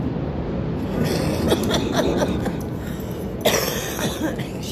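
A couple of harsh coughs break through steady, dense background noise, with no clear speech.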